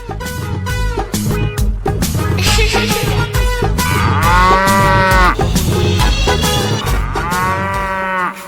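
Cattle moo loudly and repeatedly, several long drawn-out lowing calls close by, overlapping one another.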